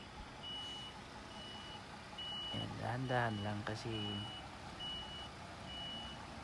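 Large truck with trailer reversing during parking training, its backup alarm giving faint, evenly spaced beeps throughout, under a low engine rumble and a person speaking briefly in the middle.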